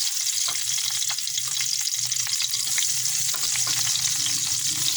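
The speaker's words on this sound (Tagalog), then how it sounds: "Doon sa nagprituan natin ng ito, doon din tayo gigisa. Lagyan natin yung sibuyas." Onions sautéing in oil in a pan crackle and sizzle steadily at close range, with light stirring taps throughout and no talk.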